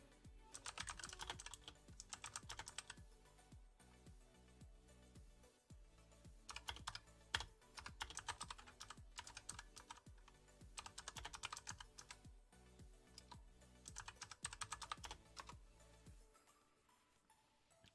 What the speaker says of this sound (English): I'm gonna use my actual mod typing skills.